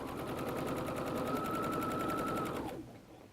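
A sewing machine runs steadily at speed while stitching a seam on a messenger bag, a fast continuous buzzing drone that slows and stops near the end.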